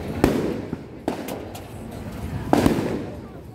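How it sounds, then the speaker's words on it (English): Fireworks go off over a night market at Patong Beach, Phuket, Thailand: several sharp, loud bangs spaced a second or so apart, each trailing off into crackle, with faint voices in the background. "Oh, wow, today a lot of fireworks here."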